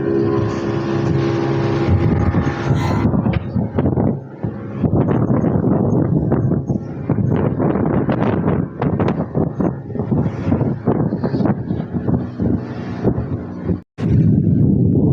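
Speedboats roar away across open water, a loud, steady engine drone buffeted by heavy wind noise on the microphone, with a brief dropout near the end.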